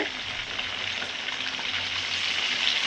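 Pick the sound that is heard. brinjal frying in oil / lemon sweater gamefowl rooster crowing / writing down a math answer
brinjal frying in oil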